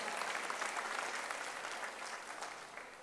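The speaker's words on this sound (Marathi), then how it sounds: "मी सर्व माणगावकरांना, उपस्थित असणाऱ्या सगळ्यांना या ठिकाणी एकदा नामदेव पवारांसाठी जोरदार टाळ्या होऊन जाऊ द्या।" Dense crowd applause at a Maharashtra political rally in Mangaon, a steady wash of many hands clapping, fairly distant and sustained for the whole stretch.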